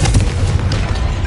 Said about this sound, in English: Bombardo!